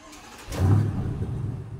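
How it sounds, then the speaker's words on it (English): A BMW 850i with a 4.4-litre twin-turbo V8 starts up: quiet cranking, then a sudden swelling roar as it fires, settling into a steady, deep idle rumble close by. "let's start this thing up because it's all about the engine"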